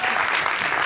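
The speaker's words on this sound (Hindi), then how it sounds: "तालियां" Audience applause at a film trailer launch event, a loud full burst of many hands clapping at once, dense and sustained throughout.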